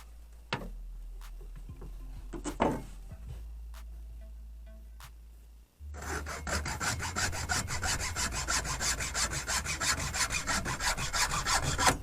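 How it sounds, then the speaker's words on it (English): A wooden stick being sawn by hand for a homemade jug fishing line, a steady rapid rasping of strokes that starts partway through after a few quiet taps and clicks, close and continuous. "So now we begin to cut."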